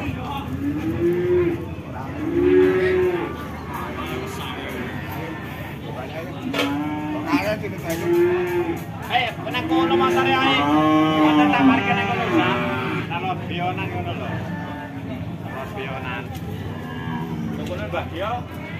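Limousin cross cattle at a cattle market give repeated loud, drawn-out moos, several animals overlapping across the whole stretch amid the busy murmur of the market crowd.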